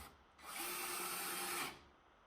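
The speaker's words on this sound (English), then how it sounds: "So here we go, we're drilling away." An Ozito 18V cordless drill driving drill screws runs at full speed for about a second, a loud steady high-pitched motor whine that starts and stops abruptly, alone and close.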